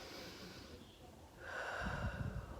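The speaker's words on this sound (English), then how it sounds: "we breathe from our chest, meaning you're gonna start breathing like this" A woman demonstrates shallow chest breathing with a quick, audible breath that grows into a louder huffing exhale, close to the microphone and fairly faint overall.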